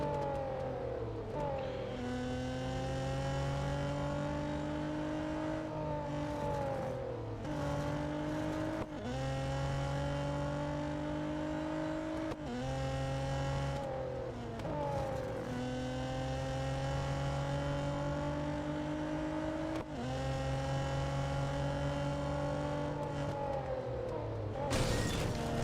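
Race car engines in the video game Real Racing 3 rev hard through repeated gear changes, each climbing whine dropping sharply at the shift, loud and continuous over a full lap without talk.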